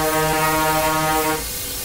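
Steam-era locomotive fog horn of the Daylight 4449 in a train simulator game, one steady sustained chord blast lasting over a second before cutting off, loud and alone without speech.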